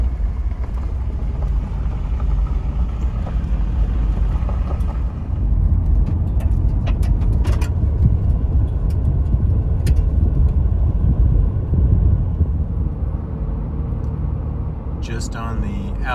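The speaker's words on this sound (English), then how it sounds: "now I'm on a dirt road, and the truck is happy" A truck drives on a dirt road near the Missouri–Arkansas line, giving a steady low engine and tyre rumble mixed with wind buffeting, continuous and close throughout.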